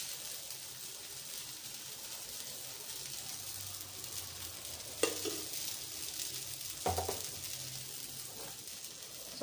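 Dosa batter sizzles on a hot pan in a steady, close crackle, broken by a few sharp scraping clatters midway and near the end.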